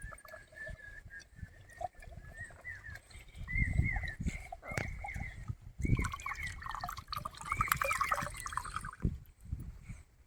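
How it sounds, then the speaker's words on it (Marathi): Water from a small, freshly cut village coconut trickles and drips into a glass in a steady, close dribble, with scattered background clatter and no talking. "आता आपण ग्लास मध्ये घेऊया पाणी"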